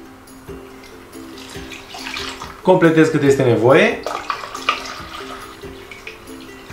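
Water from a tap pours into a pot for preserving apples in jars, a gurgling rise in pitch as the vessel fills, with someone talking over it.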